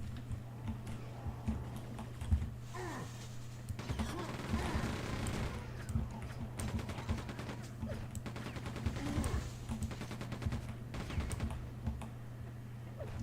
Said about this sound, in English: I love that explosion again.